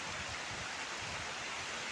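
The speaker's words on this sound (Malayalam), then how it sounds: "നല്ല മഴ പെയ്യുന്നുണ്ട് ഇപ്പോൾ." Heavy rain pours steadily beside a forest river, a dense, continuous hiss that fills the whole clip without a break.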